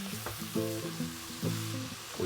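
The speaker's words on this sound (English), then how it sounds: "Now I add tomato pulp," Canned tomato pulp goes into a pan of vegetables already sweating for a chick pea casserole, giving a steady sizzle and frying hiss with stirring and pan scrapes throughout.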